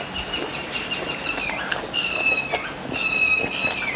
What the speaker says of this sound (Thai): เสียงนกกระแต